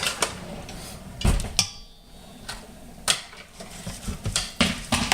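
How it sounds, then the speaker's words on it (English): A utensil scrapes and clanks against a pan while lasagna filling is stirred, giving irregular close metallic knocks and scrapes with short gaps between them. "Now, you want to start stirring this."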